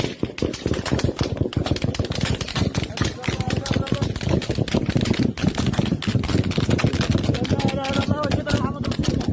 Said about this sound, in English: Gunshots are heard for a full 5 minutes on the video.